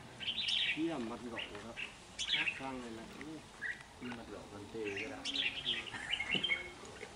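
A young wild-caught songbird kept in a cage for sale gives bursts of chirps and warbling phrases close up, with quiet gaps between.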